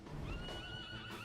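A horse whinnies in Dragon Quest 11, a short wavering neigh over a dense rumbling background with faint hoof clatter.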